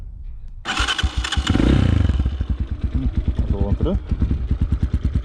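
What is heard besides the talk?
Zongshen 250 172FMM enduro motorcycle engine starting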